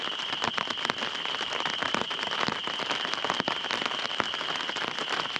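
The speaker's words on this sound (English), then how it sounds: "I am so happy we finally got rain" Rain patters on a camping tarp overhead, a dense, steady crackle of drops with sharper individual taps scattered through it, close and even throughout.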